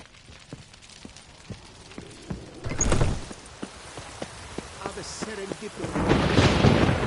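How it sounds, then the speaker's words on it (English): Thunderstorm in the video game The Witcher III, with steady rain throughout and two loud, rumbling thunder swells, one early and one building near the end. "The storm, damn it."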